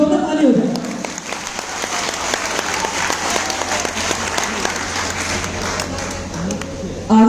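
An audience at a seminar applauds the chief guest being welcomed, a dense, steady wash of clapping that holds for several seconds, with a voice briefly heard at the start.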